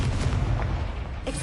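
Incendio fire spell cast in Hogwarts Legacy, a dense booming rumble with a whooshing roar that swells and fades, followed by a brief sharper burst near the end.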